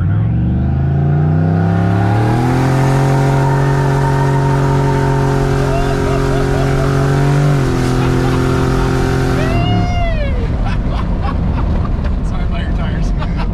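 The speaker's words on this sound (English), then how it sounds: "You do that rolling burnout." A turbocharged 2003 GMC Yukon XL sleeper does a rolling burnout, its engine roaring loud and close with rising and shifting tones, then dropping into tire squeal and rough rumble near the end.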